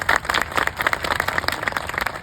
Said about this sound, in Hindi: तालियों में दम नहीं।